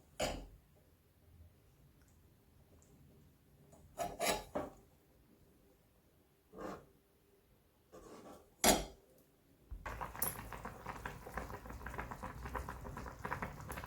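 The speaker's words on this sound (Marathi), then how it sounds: "रट रट अशी आमटी शिजत आहे" Matki amti curry simmers in a pot, with scattered soft rasps and clinks at first, then a steady, dense bubbling hiss that rises near the end.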